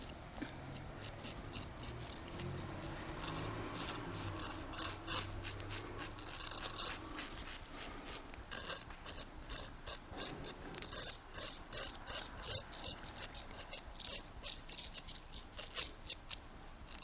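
A straight razor scrapes across a face in a traditional barbershop shave, giving quiet, close, rhythmic rasping strokes in short bursts with brief pauses between passes.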